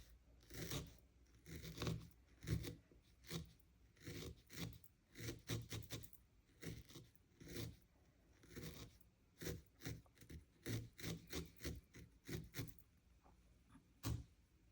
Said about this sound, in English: I'm going to grab my needle and I'm going to felt down through the top of the hat, going right through the hat into the pumpkin.